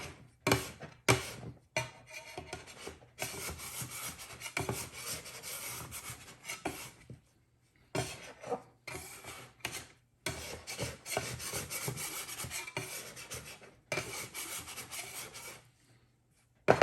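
A scraper drags across a counter to lift sticky cinnamon roll dough made from Jiffy baking mix, producing close, repeated rasping scrapes in bursts separated by short pauses, alone without talk.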